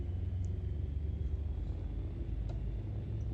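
Twin piston engines of a Beechcraft Baron 58 idling at about 1000 RPM in a flight simulator, a steady low droning rumble held evenly and close throughout with no talk over it.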